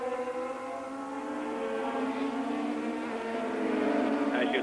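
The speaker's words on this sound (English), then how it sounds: "Piquet from Brazil, challenging Senna from Brazil. Both Honda-powered" Honda-powered 1987 Formula One cars racing at the Spanish Grand Prix, their high-pitched engines whining steadily and rising in pitch as they pass, loud and sustained with a faint commentary voice underneath.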